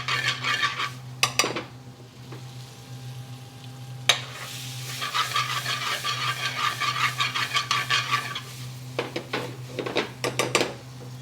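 Lamb and spices cooking in a pan on a medium gas flame for an Indian restaurant-style lamb dish, metal utensil scraping and clanking against the pan over a steady sizzle, with a low hum underneath and no talking.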